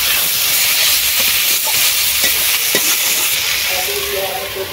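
Pointed gourd frying with chopped potato, slit green chilies and tomato, giving a loud close continuous sizzle and hiss with occasional stirring scrapes, and no talking.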